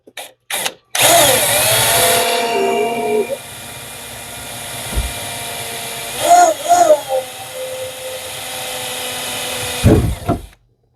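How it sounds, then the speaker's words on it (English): A power drill whirs in a few bursts, one longer run then shorter ones, pre-drilling holes while rebuilding a 1971 Volkswagen Super Beetle dashboard, with brief voices in between. "I'm going to pre-drill."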